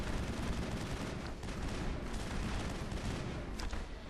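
Steady stream of gunfire in the video game Mass Effect during the Feros Thorian boss battle, a continuous noisy wash of shots and blasts at moderate level with no talk.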